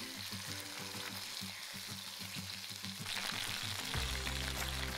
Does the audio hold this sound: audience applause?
no